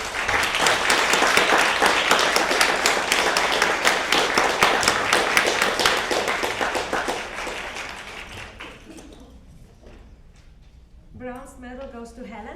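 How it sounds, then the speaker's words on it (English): A hall audience at a youth piano competition applauds loudly and steadily for several seconds, then the clapping fades out and a voice begins speaking over a quieter room. "let's clap our appreciation for them"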